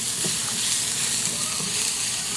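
Garlic and onion frying in a pan, a steady close sizzle with faint crackles and no talking.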